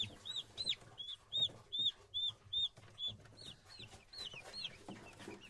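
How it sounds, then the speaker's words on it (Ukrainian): Young broiler chicks peep in a quick, rhythmic string of high chirps, fairly close, with soft clucking and rustling underneath. "Ось мої вересневі курчатка."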